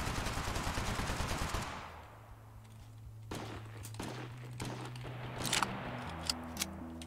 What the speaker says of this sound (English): Lots of gunfire.